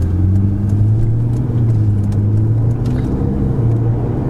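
A Ferrari 488 GTB cruising gently in sixth gear at low speed, its engine a steady low drone heard from inside the cabin, with faint road noise.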